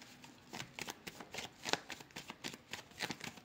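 Deck of cards being shuffled up close: quick riffling bursts repeat in a steady rhythm, soft and crisp, with no talk over them.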